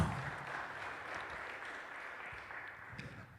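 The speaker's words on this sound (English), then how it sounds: "So a clap for that as well, please." A church audience at a Father's Day pledge event against violence applauds, a steady wash of clapping that is moderately distant and fairly quiet, holding evenly for a few seconds with a slightly louder start.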